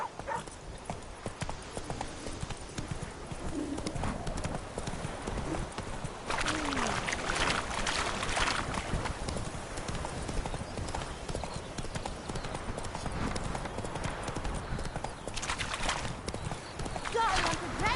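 Horse galloping in a video game, a fast continuous clip-clop of hooves over rough ground, loud and close, with some rushing noise and movement layered on top.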